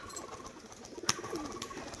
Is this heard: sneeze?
no